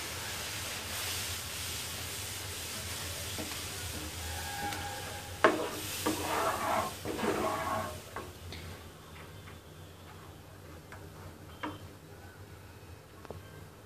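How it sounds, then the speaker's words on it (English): Milk is stirred into a browned flour roux in a pan for a white sauce, with faint quiet sizzling and soft scraping, a louder burst of bubbling and stirring near the middle, then subdued. "Keep on stirring. eventually there will be no lumps and it will become very thick."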